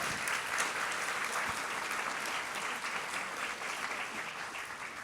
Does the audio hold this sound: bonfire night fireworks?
no